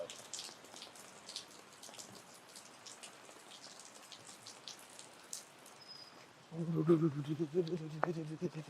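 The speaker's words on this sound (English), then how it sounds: "Oh, it's raining. Actually raining heavy." Dense patter of rain falling steadily on surfaces, with a louder, lower burst of noise near the end.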